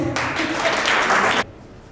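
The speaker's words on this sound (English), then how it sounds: "Please give him a round of applause." A short burst of audience clapping for a speaker at a security summit ideathon, dense and moderately loud, cutting off abruptly after about a second and a half.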